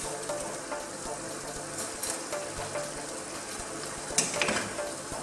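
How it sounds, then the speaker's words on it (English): Pancit bihon rice noodles frying and being stirred in a pan, a steady close sizzle with scraping stir sounds and a brief clatter near the end, with faint voice in the background. "Give it a stir."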